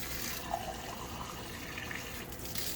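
Water running from a tap into a glass through a two-stage Beech Lane RV filter, a continuous close gushing hiss that stays steady throughout with no speech.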